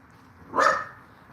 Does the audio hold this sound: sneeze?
no